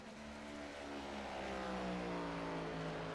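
A Chevy Camaro race car engine with a misfire drones steadily at a Daytona qualifying session, a loud, sustained roar that rises slightly in pitch with no voices.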